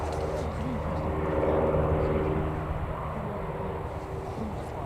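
A small propeller plane at Newcastle Airport drones steadily, its engine hum clear and continuous at moderate distance, with faint background voices and ambient noise.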